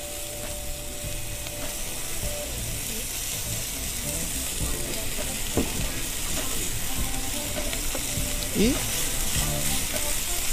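Linguiça sausage frying in its own fat in a pan, a steady close sizzle with occasional scraping and stirring clicks, no talk over it.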